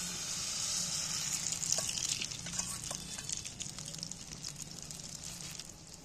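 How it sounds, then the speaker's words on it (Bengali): A soybean and egg mixture sizzles in hot oil in a pan, a fairly quiet but continuous crackling hiss with occasional sharper pops. "উনুনে আমি একটা প্যান বসিয়ে প্যানে তেল দিয়ে দিচ্ছি ওটা ভাজার জন্য"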